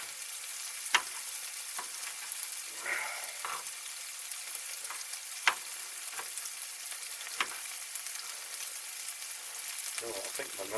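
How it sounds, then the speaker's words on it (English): Aubergine sizzles and crackles in a hot pan, with occasional sharp clicks and scraping as it is stirred. "it takes a bit of frying as aubergine"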